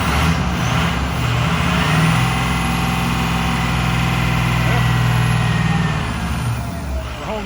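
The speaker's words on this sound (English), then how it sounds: "sit in the truck and idle up and see what it does." A truck engine runs at a fast idle during a fuel pressure test after an EBP sensor cleaning, a loud steady diesel drone that swells slightly with light revving, heard close up from inside the cab.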